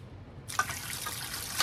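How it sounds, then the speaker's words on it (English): Cold tap water runs over brined cucumber pickles in a colander, a steady close trickle and splash that starts abruptly and continues alone. "we're gonna pour them in a colander, and we're gonna rinse them in cold water"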